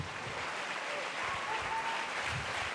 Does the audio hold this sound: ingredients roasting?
no